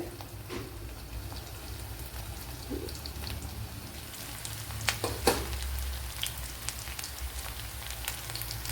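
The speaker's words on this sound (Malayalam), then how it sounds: "ഇതിനെ ഒന്ന് ഫ്രൈ ചെയ്തെടുക്കണം." Boiled cauliflower fries in a pan for a Kerala-style cauliflower varattiyathu, a steady close sizzle with scattered crackles and pops of spitting oil, louder bursts clustering midway.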